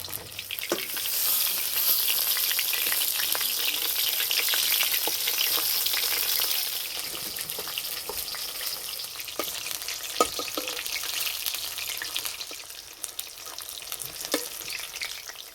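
Stuffed Malabar spinach leaf fritters fry in hot oil with a steady, close hiss and bubbling that runs throughout, dotted with small crackles and pops, and no voices.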